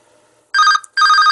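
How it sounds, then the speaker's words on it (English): A telephone rings loudly nearby in two electronic bursts separated by a short gap, following a faint low hum. "Oh, there's my phone."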